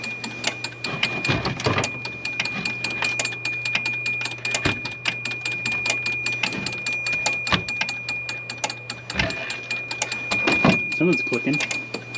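A 1982 Fiat 124 Spider's lighting circuit clicks with a steady, rapid relay-like ticking that runs throughout, alongside faint hum and occasional voices in the background.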